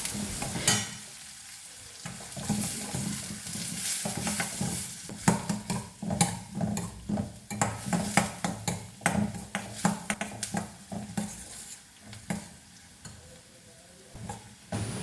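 Half an onion, sliced, sizzles in a pan for oats upma as a spoon stirs it, with frequent scraping and clinking strokes over a steady frying hiss, close and fairly loud, no talk.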